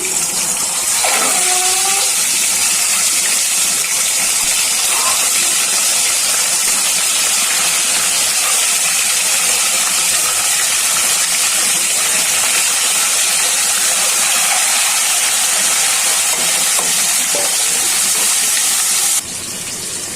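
Eggs fry in hot oil in a pan with a loud, continuous sizzling hiss that holds steady for about twenty seconds, close up and with no voices.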